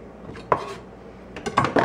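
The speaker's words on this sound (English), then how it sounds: "Okay, so I'm going to cut this tomato up there." Knife cutting up a tomato on a board, a few sparse, close clicks and taps, one isolated knock followed later by a quick cluster of cuts.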